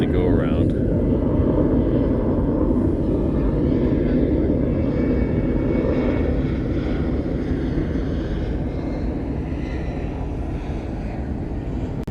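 An airliner arriving at Honolulu airport after an earlier go-around, a loud broad engine roar with wind buffeting the mic, steady and fading slightly, with a voice talking underneath.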